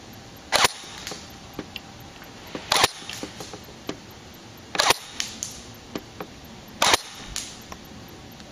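A G&G Toptech M14 airsoft rifle fires single chrono test shots using .25 BBs, five sharp, loud snapping cracks spaced about two seconds apart, with faint clicks and handling noise in between.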